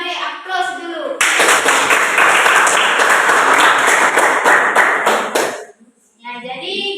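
A classroom of students claps for a group after its presentation, a dense burst of hands lasting about four seconds, with brief talk just before and right after.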